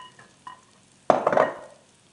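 An okonomiyaki, a Japanese savory pancake, cooks in a pan with a short burst of sizzling and frying that swells after a couple of soft clinks, then fades over about a second.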